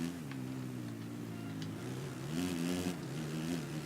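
Motocross bike engine in the racing game MXGP3 revving steadily at high pitch and climbing through the gears up to fifth, a continuous close whine that lifts briefly as the gear changes.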